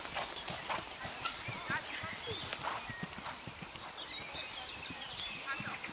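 Horse hooves clip-clopping in a steady rhythm as a horse canters during a riding lesson, mid-distance, with a person speaking over the hoofbeats.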